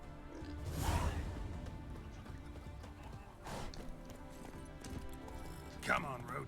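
Horse sounds in The Witcher 3 with galloping hooves and a neigh over background music and a talking voice, fairly steady throughout.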